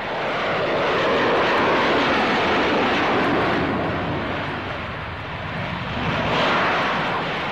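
Steady, loud roar of an AV-8A Harrier jet's Rolls-Royce Pegasus turbofan engine, a broad continuous rumble that dips slightly midway and swells again, with no voices.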